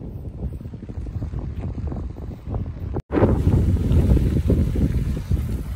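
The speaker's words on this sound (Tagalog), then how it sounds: "Malakas ng hangin, kaya mahirap mag-bike pabalik." Strong wind roars and buffets the microphone continuously on the Pencarrow bike trail, rising to a heavier gust about halfway through.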